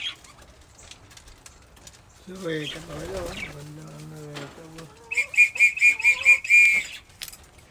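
Racing pigeons coo in low, throaty notes as they land, followed by a burst of rapid wing flapping and a high whistle-like tone nearby.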